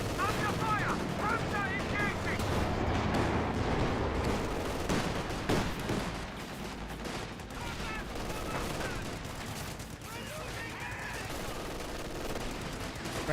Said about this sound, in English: Grenadiers taking some severe fire from multiple units